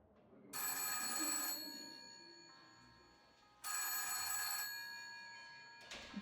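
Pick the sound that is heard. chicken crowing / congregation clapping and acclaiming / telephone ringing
telephone ringing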